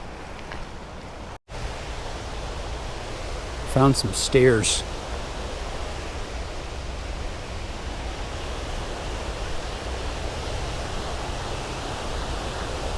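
A steady roar of rushing water from a waterfall on the way to Yellowstone National Park fills the scene, constant and moderately loud, with footsteps and brief talk partway through.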